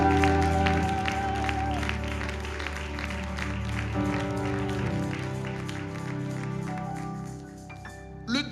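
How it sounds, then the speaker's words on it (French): A church congregation applauds the Lord together, a steady wash of clapping that fills the room, sustained and fairly loud throughout, with organ or keyboard tones sounding underneath. "Est-ce qu'on peut acclamer le Seigneur?"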